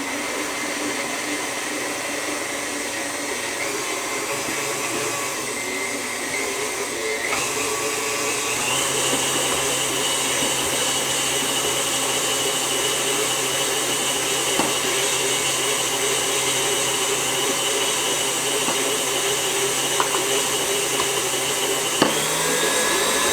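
An electric mixer whips vanilla and heavy cream for a king cake, a loud, steady motor whir running continuously for over twenty seconds with small shifts in pitch.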